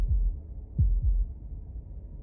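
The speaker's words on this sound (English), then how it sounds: "That was the sound of a heartbeat" A deep, muffled heartbeat thuds in Slay the Princess, three low beats, the last two close together like a lub-dub, over a quiet low hum.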